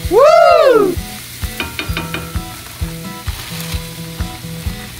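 Ground meat for sambusa sizzles in a hot pan while a utensil scrapes and taps repeatedly against it; a brief rising-and-falling whistle sounds at the start.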